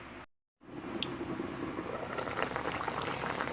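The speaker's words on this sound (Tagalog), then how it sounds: "Yan guys, kumukulo na po yung ating" Pork afritada boils in a covered pot, a steady low bubbling and simmering wash that fills the clip after a brief gap of silence near the start, with no talk.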